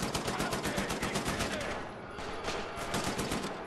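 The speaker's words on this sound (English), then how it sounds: "Just running around with just like two guns going." Rapid gunfire from two guns at once in Wolfenstein: The New Order, dense overlapping shots rattling continuously for several seconds with a brief dip partway through, loud and close, with no speech.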